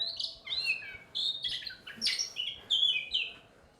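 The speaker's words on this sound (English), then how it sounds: "It's a very vocal bird." A bird in a video game chirps and tweets in quick, bright, high-pitched bursts, several short calls in a lively irregular rhythm, close and clear over a quiet background.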